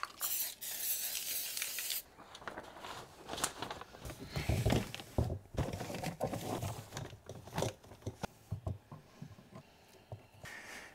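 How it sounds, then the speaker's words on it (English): Spray adhesive hisses out of a can inside a plastic bucket in short close bursts, broken by gaps, rustling and handling noises. "I'm just gonna use a spray adhesive on the inside"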